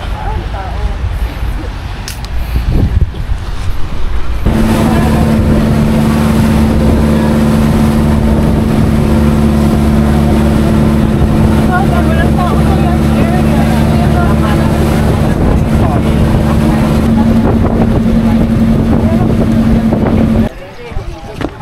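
A motorboat engine drones steadily and loudly on the crossing to an island in the Gigantes Islands, Philippines, starting after a few seconds of wind and continuing with a constant tone before cutting off near the end.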